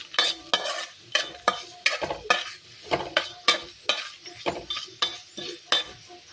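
Moong dal and ridge gourd stir-fry being stirred in a pan, with a quick series of sharp spatula scrapes and clinks against the metal over a light sizzle, close and rhythmic, no voices.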